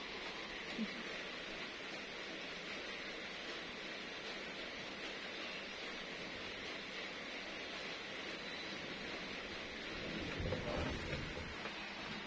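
Steady rain falls with a continuous hiss, and a low rumble of thunder swells near the end, fairly quiet and with no voices.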